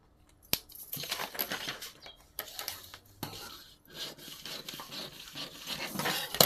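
Scissors cutting through a paper blouse pattern, giving close, dry rasping snips and rustles in uneven bursts, with occasional sharp clicks and short pauses between cuts.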